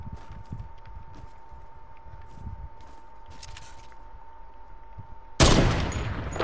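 Gunfire in the Fortnite video game's gun game mode: a quiet stretch with a steady tone and soft steps, then a sudden loud burst of close shots near the end.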